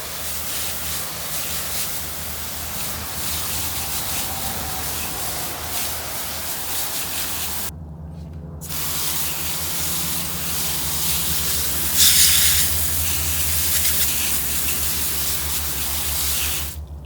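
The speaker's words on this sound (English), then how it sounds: "let's just rinse that off before it dries on there." Hissing water spray rinsing the wheels of a Honda ATC 200X three-wheeler, a loud, close continuous gush with one short break and surging pressure, no speech.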